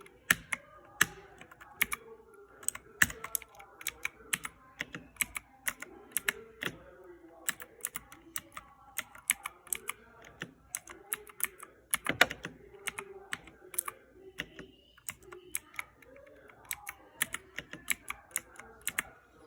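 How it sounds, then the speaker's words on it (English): Slow, forceful keystrokes on a mechanical keyboard with Cherry MX Blue switches, each click distinct and loud, spaced out over a quiet hum. "Now here's a heavy typing with a low speed."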